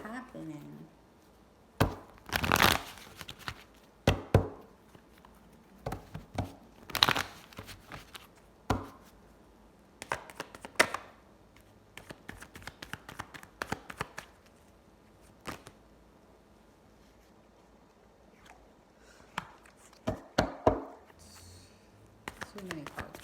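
Tarot cards get shuffled in scattered, crisp riffling bursts separated by quiet gaps, close to the listener, while a voice talks intermittently in between.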